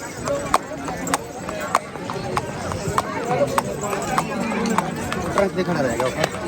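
A horse walks along Mall Road in Shimla, its hooves clip-clopping in a steady, distinct rhythm. A crowd's voices murmur in the background throughout.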